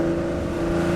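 A Ferrari 250 Testa Rossa engine revs steadily, a loud, close, rich harmonic howl holding in the torque band for a brief moment, with no voices.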